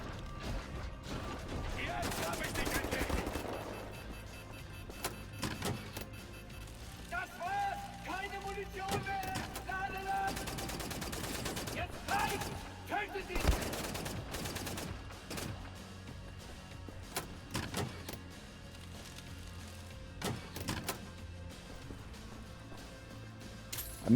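Gunfire in the video game Wolfenstein: The New Order, with rapid mechanical clattering bursts and metallic ratcheting over a busy game mix, and a player talking at times.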